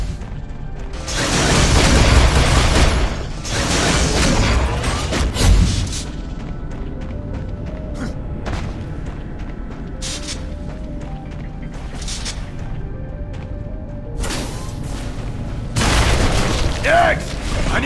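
Heavy combat in Unreal Tournament 3: loud booming explosions and bursts of gunfire crash in repeatedly over a mechanical din, with brief voices mixed in.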